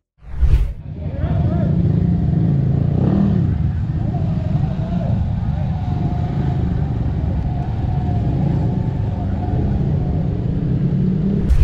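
A Honda Dax 125 motorcycle rides through the Yaowarat street-food area, starting with a brief whoosh before a continuous, fairly loud engine rumble and wind noise hold steady throughout.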